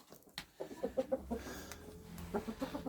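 Several chickens cluck softly in short bursts, close by in a quiet, freezing shed, with a few faint knocks in between.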